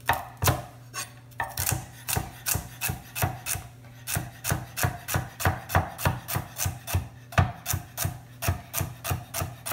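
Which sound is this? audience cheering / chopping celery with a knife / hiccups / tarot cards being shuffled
chopping celery with a knife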